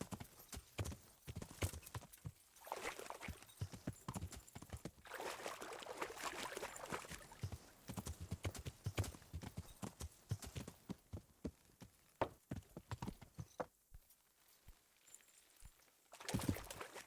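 Rapid, steady hoofbeats of a horse galloping in a video game, loud and close, continuing almost without pause, with splashing and a faint whinny in places.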